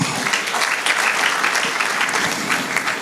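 A church congregation claps together in a sustained burst of dense, even applause that holds for the whole stretch, with no voices on top.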